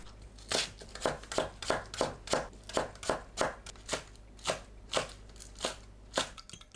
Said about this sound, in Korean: 파를 작게 썰어줍니다.